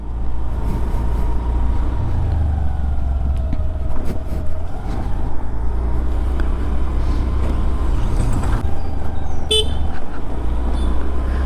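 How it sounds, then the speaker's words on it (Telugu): Horn of a Honda Activa 6G scooter honking briefly near the end, cutting sharply over steady road and engine rumble with passing traffic around. "హారన్ కూడా బాగానే ఉంది."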